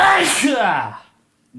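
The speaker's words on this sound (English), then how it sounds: "I sneezed twice." One loud, close human sneeze bursts out and quickly trails off into silence, followed by a brief soft sound.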